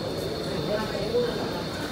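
MTR train leaving Tai Wai station in Hong Kong, a steady low rumble and hum of the departing train heard from the platform, continuous and moderately loud.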